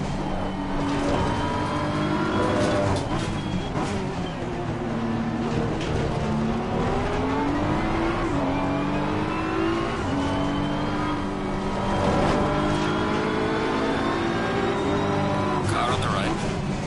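Race car engines drone and shift pitch continuously in a sim racing game, with rising and falling revs across several gear changes, loud and steady throughout, with a voice faintly present under the engine noise.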